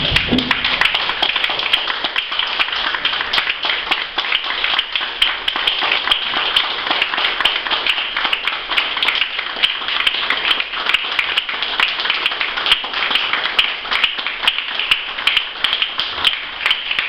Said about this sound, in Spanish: con fuertes palmas, compañeros